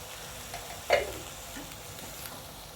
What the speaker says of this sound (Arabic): الكوسه بتاعتنا دي طبعا هنديها التقليبه دي والنار عاليه